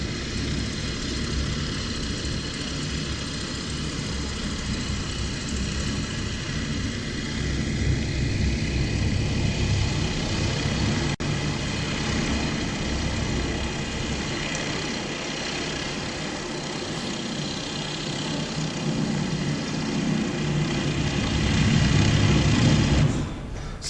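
A steady engine drone and low rumble of an aircraft flying overhead, holding roughly constant and swelling near the end, with no voices.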